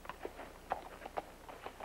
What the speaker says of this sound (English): That's a nice horse you got there.